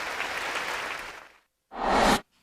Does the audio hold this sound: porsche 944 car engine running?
no